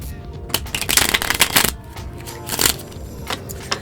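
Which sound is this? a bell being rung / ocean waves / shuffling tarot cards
shuffling tarot cards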